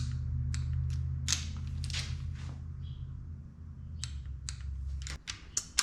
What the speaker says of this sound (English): just pull your wrench until it clicks